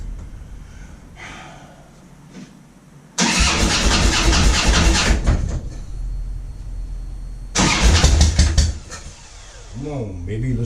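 A Harley-Davidson motorcycle engine cranks and fires, bursting into a loud, rough roar, dropping back, then revving hard again before settling to an idle, with a voice talking around it.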